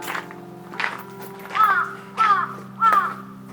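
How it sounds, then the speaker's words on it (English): Three loud, evenly spaced caws from crows nearby in Kyoto, Japan, with softer rustles and taps before them over a low steady hum. "There's a lot of crows in this area."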